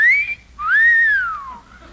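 A high, wavering whistle, two long sliding tones rising and falling like wind through gaps of an old house, likely produced by a voice or whistle imitating the wind in an old radio comedy.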